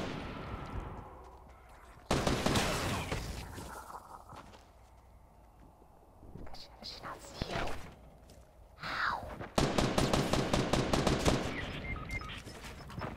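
Rapid bursts of automatic gunfire from a Fortnite match, loud volleys crackling in clusters with quieter gaps between, while players' voices shout over the shooting.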